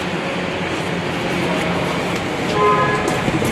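A Maruti Alto wheel with a wobble spins while its worn tyre gives off a continuous rumbling whir, loud and steady throughout.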